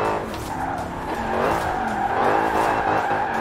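A Dodge Charger R/T drifts in Forza Horizon 4, tires squealing steadily over a loud, revving engine throughout the short burst, with no talking.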